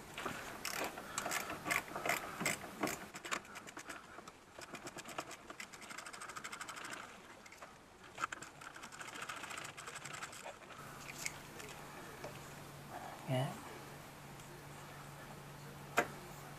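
A socket ratchet undoes a 10 mm bolt on the diesel fuel filter of a 1.3 JTD multijet engine, with rapid rhythmic clicking pawl strokes in bursts, fairly close, followed by quieter handling noises.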